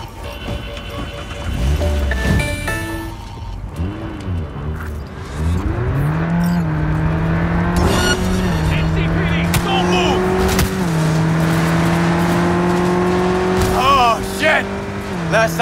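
A car races through Night City in Cyberpunk 2077 while fleeing a police pursuit. The engine roars loud and close, revving and shifting through rising and falling pitches, with tire squeal and passing traffic.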